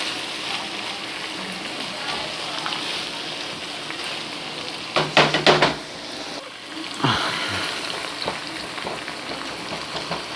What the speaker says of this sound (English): now that the meat is completely almost cooked through, we can just add our onions into the mix.